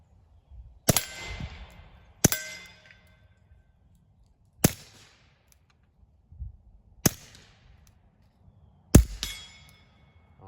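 Five sharp, separated shots from a suppressed Beretta 71 pistol firing Blazer full-velocity .22 rounds outdoors, each a quick crack with a short ringing tail, spaced a couple of seconds apart.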